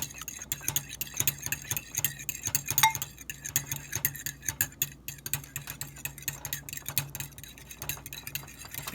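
Egg yolks and milk whisked rapidly together in a bowl, a quick steady run of light clinking and scraping strokes that continues throughout at close range.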